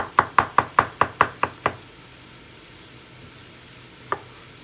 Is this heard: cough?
no